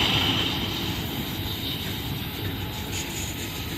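Locomotives roar as they haul an intermodal freight train on an overcast day, a loud, steady, close engine rumble with a broad wash of noise that holds unbroken, with no voices.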